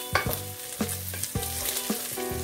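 Spam slices frying in a pan for an omelette, with repeated stirring scrapes and clicks over a steady sizzle, close and fairly quiet.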